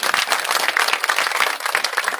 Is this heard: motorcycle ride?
no